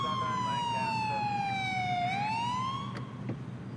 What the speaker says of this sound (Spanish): Disculpen por no apagar la sirena.